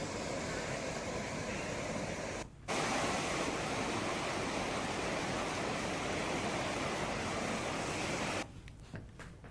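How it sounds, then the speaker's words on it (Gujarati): The Hiran river in Gujarat, flooded after heavy monsoon rain, rushes past in a steady, dense roar of water that fills the whole stretch, broken only by two brief cuts. "હિરણ નદીમાં પૂર આવ્યું છે"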